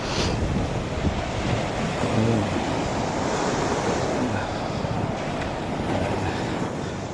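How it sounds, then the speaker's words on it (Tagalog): Sea waves rolling onto the beach at Liwliwa, San Felipe, Zambales, a steady loud roar of surf mixed with gusty wind buffeting the microphone, continuous with no speech. "alon ng dagat."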